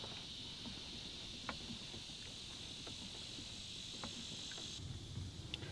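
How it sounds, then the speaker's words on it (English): Continuous high-pitched cicada buzzing drones steadily in the background while kayaking, with faint clicks and outdoor noise scattered underneath. "For cicadas, they're everywhere."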